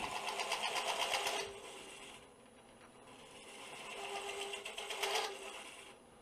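A wood lathe turning at 500 RPM while a hollowing cutter sweeps back and forth inside the piece, giving a faint rhythmic scraping hum that swells and fades in two passes.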